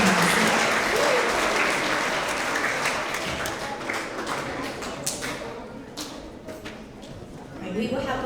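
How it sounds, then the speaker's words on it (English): A school end-of-year award assembly audience gives readers a sustained round of applause that starts loud and slowly thins, with a voice speaking over the clapping. "let's have another round of applause for all of these amazing readers"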